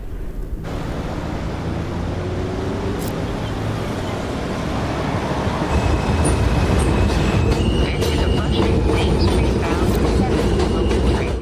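A New York subway train at Court Square Station rumbles loudly and steadily, broadband rail noise filling the scene, growing heavier partway through with thin metallic squeals and clanks from the wheels riding above it.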